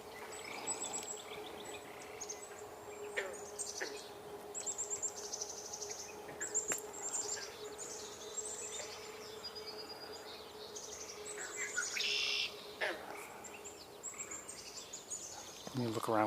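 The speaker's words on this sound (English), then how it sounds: "Just heard a chickadee." A chickadee calls repeatedly among other bird chirps and insect buzz outdoors on a nature tour, faint and distant against a steady background hum.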